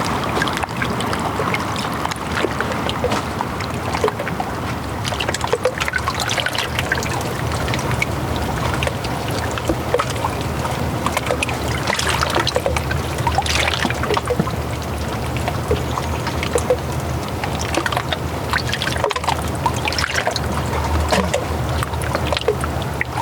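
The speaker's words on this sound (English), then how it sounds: "hearing the water negotiate its space around other objects soothes my soul" Water flowing and trickling around rocks and other objects in Ottawa, a steady, dense wash of running water close by, continuous throughout with no voices.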